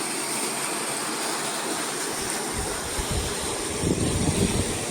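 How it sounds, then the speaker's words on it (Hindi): A waterfall on a property in Chakrata sends up a steady, broadband rushing roar that is continuous and fairly loud, with a slight swell toward the end. "ये रहा वाटरफॉल"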